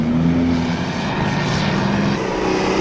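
A 1970s Allis-Chalmers pulling tractor roars down a competition track dragging a weighted sled, its engine a loud continuous drone with steady low harmonics and no pauses.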